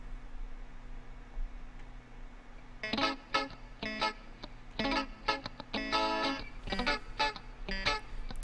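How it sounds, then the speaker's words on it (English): A clavinet-style keyboard and a rhythm guitar play together in a song, entering after a near-silent few seconds with choppy, rhythmic stabs and bright, percussive chords that continue to the end. "So with the rhythm guitar and that clavy keyboard,"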